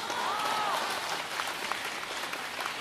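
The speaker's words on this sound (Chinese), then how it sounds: "感谢大家热情的掌声" Steady, dense audience applause fills a live Deyun Society drum-song (guqu) show in Tianjin, holding at an even level throughout with no voices on top.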